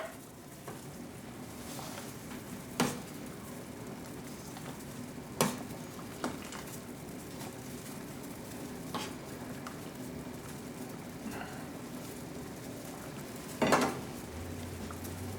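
Cooked perogies are lifted out of a frying pan, with a low steady sizzle underneath and a few distinct clinks and scrapes of a utensil against the pan spaced through the stretch.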